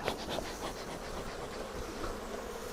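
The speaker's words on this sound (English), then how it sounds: "Now the bees are getting a little bit toey." A dense, steady buzz of honey bees swarming around an opened Flow Hive during a harvest, continuous droning from many insects close by, with no voices.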